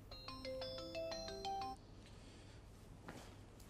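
A mobile phone ringtone plays a bright electronic melody of repeated tones, loud and close, then cuts off abruptly partway through, leaving quiet room ambience.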